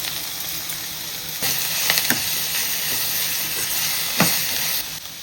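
Onions, green chilli and tomato sizzle in oil in a pan, a loud, steady frying hiss with a few short bursts of crackle and stirring and no talk.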